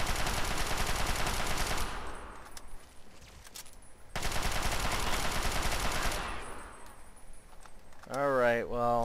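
Rapid bursts of gunfire from aliens being shot at in modded Fallout 3, two long loud volleys separated by a quieter gap, followed by a brief voice.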